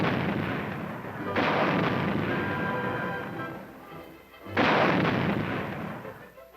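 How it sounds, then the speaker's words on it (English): Two heavy blasts from the high-velocity 90mm gun on an M48 tank, fired in training at Fort Irwin in the Mojave. Each thunderous boom rolls out into a long, rumbling decay, and the second shot lands about three seconds after the first. "high-velocity 90mm gun they have on these M48s really makes a"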